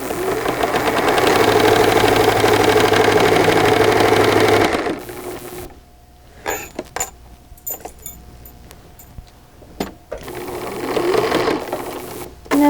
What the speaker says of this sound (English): So, we're almost done sewing.